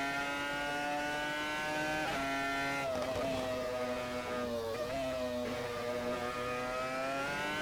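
A Renault R25 Formula One car revs hard in the Assetto Corsa racing game, its loud, high-pitched engine howl climbing and dipping through several throttle blips without a break.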